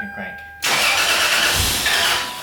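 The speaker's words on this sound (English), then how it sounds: "try to start, that's like the remaining fuel in the line. So it won't start no matter what you do." A Toyota 4Runner fitted with a kill switch cranks as the key turns, a loud steady starter-and-engine whir from close by following a brief beep, with speech from people nearby at the same time.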